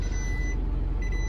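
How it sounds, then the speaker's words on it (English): A 2022 Chevrolet LCF 4500 diesel work truck idles steadily close by, its low engine rumble continuous and even, with a faint high tone running alongside. "Nice diesel engine."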